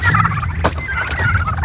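Homestead turkeys gobble at their water container, a loud, close burst of bubbling gobbles over a low rumbling background, with no talk.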